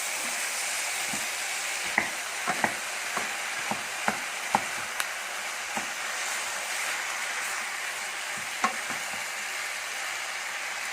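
Minced beef, started from frozen, sizzles steadily in a hot pan while a utensil stirs it, with a string of light scraping taps against the pan over the continuous frying hiss.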